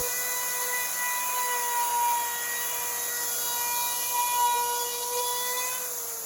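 A handheld router spins steadily with a high, whining tone while its bearing-guided bit cuts along the edge of a wooden board, the sound holding level throughout with no talking.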